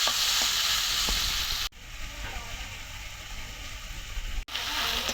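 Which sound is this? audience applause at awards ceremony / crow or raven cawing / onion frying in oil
onion frying in oil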